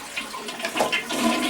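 Toilet flush draining the tank before the toilet is pulled up for a wax ring replacement, a loud rushing, gurgling wash of water close by, steady and continuous, with no talking.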